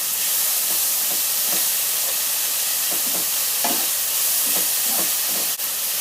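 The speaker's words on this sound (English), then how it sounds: "And I'm just mixing that all up in the pan." Lamb mince frying in oil in a pan for moussaka, a loud steady sizzling hiss throughout, with soft scraping stirs recurring every half second or so, heard up close with no speech.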